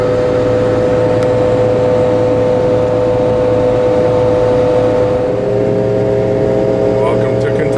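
A truck engine drones loudly and steadily at a truck stop in Kentucky, a sustained high whine over the engine rumble, constant and close throughout.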